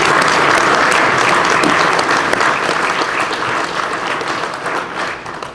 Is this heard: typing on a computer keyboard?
no